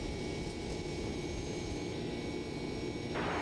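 Simulated airliner taking off from runway 25 left in X-Plane 11, a steady, loud engine roar and rumble held throughout, with a tonal shift near the end and no voices.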